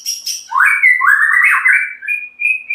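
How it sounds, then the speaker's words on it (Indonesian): A tame, hand-friendly white-rumped shama (murai batu) sings up close, a bright run of rising and falling whistled notes with a few sharp chirps at the start, loud and alone without any talking. "Murai batu ini sangatlah jinak, teman-teman."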